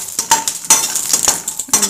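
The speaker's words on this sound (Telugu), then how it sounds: "ఆయిల్ కొద్దిగా హీట్ అవనిచ్చి వేరుశెనగపప్పు వేసుకుందాం." Peanuts tipped into a pan of hot oil and stirred with a metal spoon while making semiya upma, giving a close run of quick scraping clinks and light rattles in uneven bursts.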